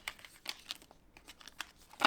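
Paper cash envelopes are shuffled by hand at close range, giving quiet bursts of crinkly rustling separated by short pauses.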